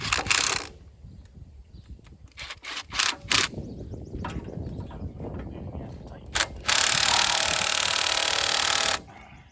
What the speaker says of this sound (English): You take your impact and you run those nuts in.